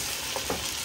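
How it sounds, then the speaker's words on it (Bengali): Onions frying in a pan while being stirred, a dense continuous sizzle with two short scraping stirs, close and fairly loud. "পেঁয়াজগুলোকে ভালো করে নাড়িয়ে চাড়িয়ে ভেজে নিচ্ছে গোল্ডেন ব্রাউন করে"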